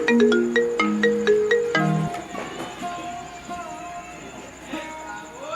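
A phone rings for an incoming call, playing a melodic ringtone of repeated electronic tones. It is loud at first, then fades under background noise and faint voices.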